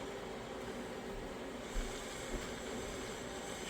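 A steady, broadband hiss holds throughout at a constant level from a hot gas torch flame for soldering, turned down until the yellow disappears, burning close by, with no voices.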